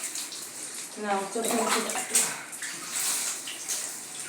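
Water poured over a person's head during a shampoo hair wash at home, splashing and trickling steadily at close range while someone speaks over it in Bengali.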